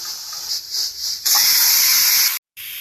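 A steady, loud hiss of steam rushes from a pressure cooker after cooking, beginning with softer spurts and swelling into a continuous jet before cutting off briefly and resuming.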